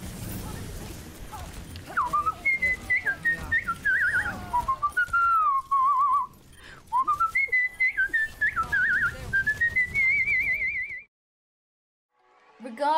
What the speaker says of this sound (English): Stop that fucking whistle!